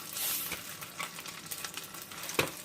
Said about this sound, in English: I'm just going to start sizzling a little bit.